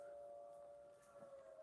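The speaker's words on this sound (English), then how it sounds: "I hear the sirens." A distant civil defense siren sounds its noon signal on a Sunday: a faint, steady wailing tone held throughout, far off and low in level.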